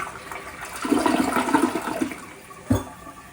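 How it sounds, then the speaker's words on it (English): A newly installed toilet, set in place after a rotten subfloor was replaced, gives its first flush: a close, loud rushing swirl of water that builds and drains over a couple of seconds, ending in a brief gurgle. "Let's give it its first flush."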